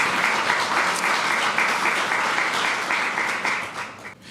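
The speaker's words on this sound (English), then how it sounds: "Let's give those honorary mentions a round of applause" An awards audience applauds honorees for sustainability work, steady dense clapping from many hands that holds even, then thins and fades toward the end.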